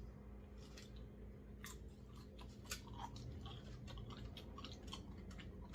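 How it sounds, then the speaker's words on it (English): Crunchy skin of a spatchcocked turkey smoked in an ugly drum smoker being bitten and chewed close up, with a series of crisp crackling crunches over a steady low background hum and no talking. "Let's get a bite of the skin."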